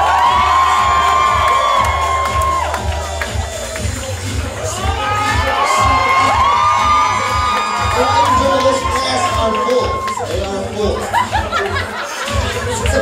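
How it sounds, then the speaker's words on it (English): A wedding reception crowd in Honolulu cheers, whoops and shouts loudly throughout, with laughter mixed in and an announcer's voice over the noise. "last but not least, big round of applause, please"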